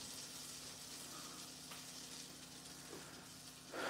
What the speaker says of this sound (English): we're going to let this sizzle